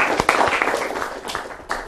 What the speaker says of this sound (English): Let's give a round of applause for the participants.